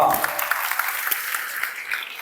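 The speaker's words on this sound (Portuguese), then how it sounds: "Palmas para ele. Palmas." A church congregation applauds for a boy, a steady wash of fairly close clapping from many hands filling the whole stretch, with a few louder individual claps standing out.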